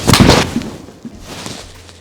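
A golf club strikes a ball outdoors with one sharp, loud crack at the start, followed by faint rustling and a quiet background.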